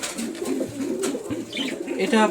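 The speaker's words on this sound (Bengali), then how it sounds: "এটা পায়রা।" A pigeon kept in a home loft coos close by in soft, repeated low throaty calls, several short rounds, with a faint voice in the background.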